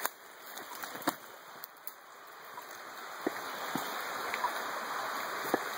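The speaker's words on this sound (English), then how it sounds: "So this is the creek" Steady broadband rush of a creek flowing a few hundred yards downstream from a waterfall, heard close and continuous, with scattered brief splashes and clicks over the flow and no talking.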